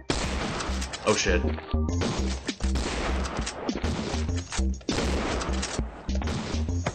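Gunfire in a shooter video game, rapid bursts of loud shots and crashes tumbling over one another almost without pause, with a man's brief exclamation over the din.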